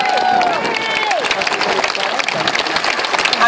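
A crowd at an outdoor political rally with union banners claps and cheers in a steady, loud burst of applause, with a voice briefly rising over the noise near the start.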